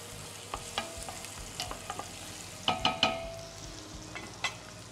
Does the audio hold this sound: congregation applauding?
no